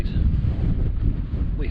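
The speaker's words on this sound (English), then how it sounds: "the winds come from the east, it's really cold" A cold east wind blows hard across a hillside in the Scottish Southern Uplands, roaring and buffeting close against the microphone in a continuous rumbling gust with no break.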